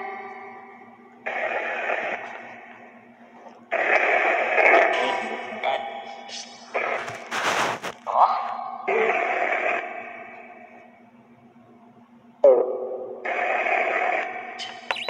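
A phone spirit box app sweeps radio static and white noise in choppy, repeating bursts separated by short gaps, with a steady low hum running underneath.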